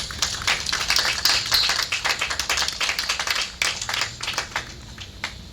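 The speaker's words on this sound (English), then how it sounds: "So give yourselves a big round of applause." Crowd at a car show event claps together in a dense, steady patter of many hands, filling the space at moderate loudness and thinning toward the end.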